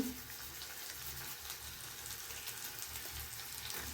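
Mawa being added to a jackfruit roast frying in a pan gives a steady, even sizzle with a soft hiss throughout, close and continuous, with no voices.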